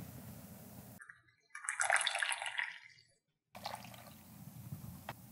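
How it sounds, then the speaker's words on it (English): Brewed coffee made from ground Kentucky coffeetree beans poured from a French press into a new wooden kuksa cup, a steady close splashing trickle lasting about two seconds between quieter outdoor stretches. "And pour it on into our brand new kuksa."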